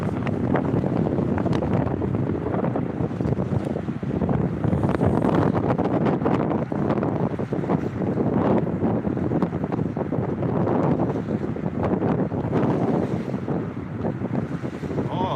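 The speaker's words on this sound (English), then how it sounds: "It's windy over here too" Strong wind buffets the microphone near the ocean in Norfolk, Virginia, a loud, continuous roar with gusty rumbling surges and no clear pauses.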